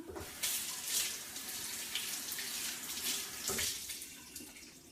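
Tap water runs steadily while a frozen homemade dog-treat mold is rinsed at a sink, a continuous close splashing hiss with a couple of brief surges.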